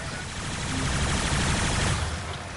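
Rapid, continuous weapon fire in Warframe, a dense unbroken roar of shots that swells and holds loud for a couple of seconds, with no talking.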